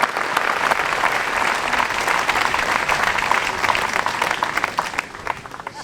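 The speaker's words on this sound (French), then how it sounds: "Et ils méritent bien vos applaudissements." A festival audience at the Eygalières music festival applauds the volunteers, with full, close, sustained clapping and scattered cheers that keep an even level and taper slightly toward the end.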